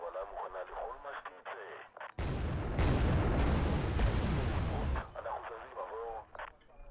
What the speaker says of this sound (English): They got artillery coming in.